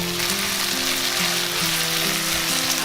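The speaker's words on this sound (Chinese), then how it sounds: "把它们炒香了之后，就把牛肉粒加进来" Green and red peppers, radish and beef cubes stir-frying in a hot wok, a continuous loud sizzle with light scraping of stirring.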